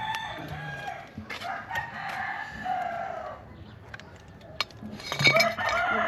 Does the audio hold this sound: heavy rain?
no